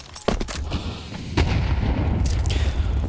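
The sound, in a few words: grenade exploding in Counter-Strike video game match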